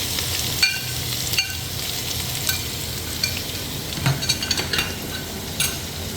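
Garlic and green chillies frying in a pan, a steady loud sizzle running throughout with a few soft clicks of stirring over it and no voices.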